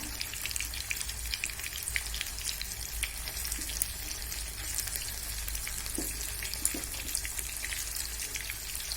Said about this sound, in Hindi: गैस की फ्लेम बड़ी करेंगे और उसे अलग पलट कर थोड़ा सा हम रोस्ट कर लेंगे